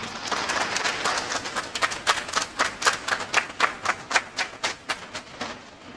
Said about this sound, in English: Thank you very much for your kindness in this warm applause.